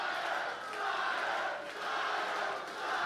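A live crowd at a Schmoedown event in New York roars and cheers in a sustained, loud wash of voices that swells and dips slightly, with no clear speech rising above it.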